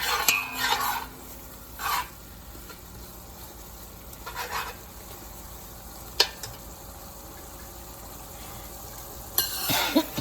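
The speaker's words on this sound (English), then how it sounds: "we'll give this a couple minutes to saute" Hot peppers sauté in a pan for curry lobster, a low steady sizzle punctuated by a few bursts of stirring and clinks of a utensil against the pan.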